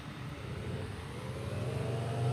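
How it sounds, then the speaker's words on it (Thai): Video game car driving round in circles, its engine giving a faint, steady synthetic drone that swells slightly toward the end, with no voices. "ตอนนี้เพื่อนเราก็ ขับวนไปเรื่อยๆนะครับผม"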